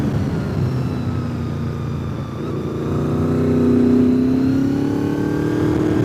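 Porsche sports cars accelerating along a winding mountain road, engines building from a steady drone to a rising, louder whine as they pass nearby, with no talk over it.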